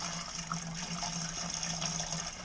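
Beer wort pours steadily from a fully opened mash tun valve while brewing a lemon blueberry wheat beer, a continuous close splashing rush of liquid with no talk.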